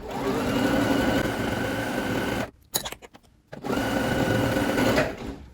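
Close, steady whirring of a sewing machine stitching elastic onto leggings, broken by a brief pause near the middle before it runs again.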